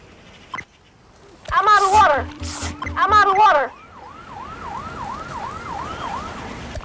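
Ambulance siren from the Fire Commander firefighting game. It opens with a short blip, then loud two-tone wailing bursts with engine rumble, and settles into a quieter repeating whoop siren that continues to the end.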